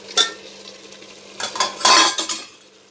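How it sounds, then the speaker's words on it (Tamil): Chicken is stirred into masala in a pressure cooker for biryani: a metal spoon scrapes and clanks against the pot in a few close, uneven bursts over a faint sizzle, with no voices. "அதை நல்லா பரட்டி விடுவோம்."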